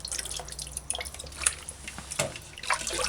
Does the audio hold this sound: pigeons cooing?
no